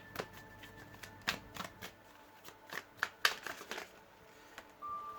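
Shamanic medicine oracle cards being shuffled by hand, a soft close series of riffling and flicking bursts at irregular intervals, quiet with no talk.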